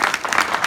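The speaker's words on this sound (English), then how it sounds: "Let's give a round of applause for our great discussion." A brief burst of audience applause after a discussion, a dense, even wash of many hands clapping up close.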